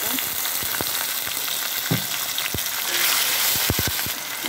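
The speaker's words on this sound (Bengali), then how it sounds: "আর একটু আলু দিয়ে ভুনা করবো এটাকে" Chicken hearts and potato frying in a pan give a steady, dense sizzle throughout, with scattered clicks and pops of spattering oil, a cluster of sharper crackles near the end; no voices.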